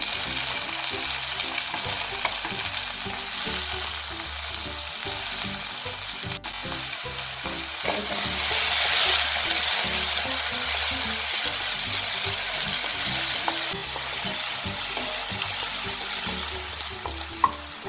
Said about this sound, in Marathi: यामध्ये अर्धा चमचा खडा मसाला छान प्रकारे आपल्याला फ्राय करून घ्यायचा आहे